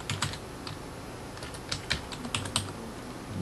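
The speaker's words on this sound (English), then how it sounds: "I call the new folder Exercises" Fingers tap out a short name on a computer keyboard in quick, uneven bursts of light clicks, close and quiet, with brief pauses between keystrokes.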